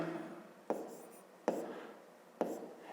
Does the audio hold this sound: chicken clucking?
no